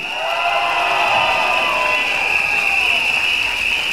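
A large crowd at a PAP general election rally in Woodlands Stadium, Singapore, cheers and applauds in a loud, steady roar that holds at a constant level throughout.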